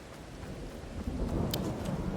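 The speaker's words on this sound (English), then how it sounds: "the rains have hit" Steady rain with a low rumble of thunder in Farming Simulator 22, a dense hiss of falling water with the deep rolling growing slightly louder, no talking.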